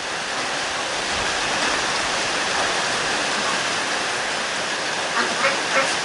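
Steady rain falls on a garden and garage roof, a dense, even hiss that holds at constant loudness throughout with a few soft drips near the end.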